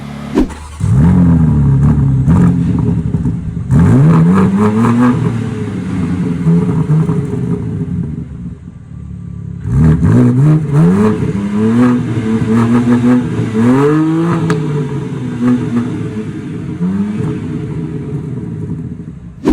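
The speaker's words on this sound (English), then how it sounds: "you can hear that beautiful sound from this 6-cylinder" A 2022 BMW M3 Competition (G80) six-cylinder engine starts and revs, its deep rumble rising and falling through repeated throttle blips, then idling before revving again; close and loud.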